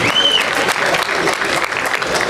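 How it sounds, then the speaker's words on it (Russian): Loud crowd applause and cheering at an amateur fight event in Latvia, dense continuous clapping with a brief whistle near the start and crowd noise throughout. "Аплодисменты, аплодисменты, Роберт Сквич."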